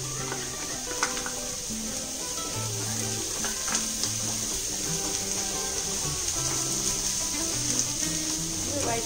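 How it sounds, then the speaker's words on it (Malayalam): Crushed ginger, garlic and green chili paste sauté in a pan for an egg roll fry, giving a steady sizzle that runs throughout beneath light background music. "വഴറ്റിയെടുക്കുക."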